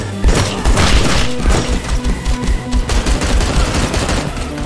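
Rapid gunfire in the VR shooter Hard Bullet, loud dense bursts of shots with thuds and impacts running throughout, close and continuous.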